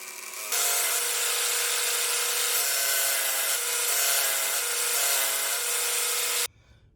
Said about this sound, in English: I'm going to run it through the thickness sander to get this smoothed out a little bit.